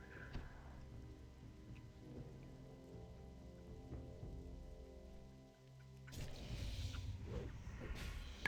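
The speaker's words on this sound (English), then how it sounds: "The rain is actually really cool in this zone." Rain falls across a zone in World of Warcraft Classic, a soft continuous patter that swells louder near the end, faint and steady with no talk over it.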